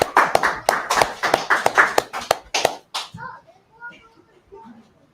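About a dozen sharp, close hand claps ring out in a quick, uneven run at a religious Feast of Trumpets memorial gathering, then stop abruptly, leaving faint voices murmuring in a quiet room.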